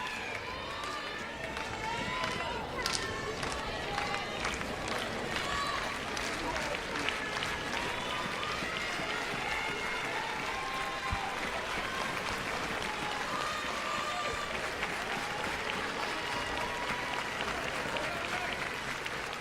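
Fans at a college softball game between LSU and San Diego State applaud and cheer in a sustained, fairly distant wash of clapping and crowd noise, with voices talking faintly underneath.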